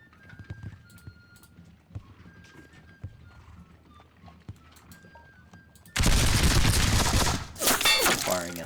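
Musket volley in an American Revolutionary War battle game set on Battle Road: a sudden loud burst of massed gunfire with a crackling tail, following quieter horse hooves and small game sounds.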